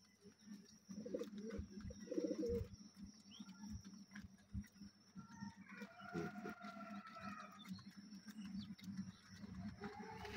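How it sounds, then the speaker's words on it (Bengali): Pigeons coo softly and repeatedly close by in a home loft, mixed with rustling, fluttering and scratching from the birds; the cooing is fairly faint but continuous throughout. "সবগুলো কবুতর দেখা যাচ্ছে"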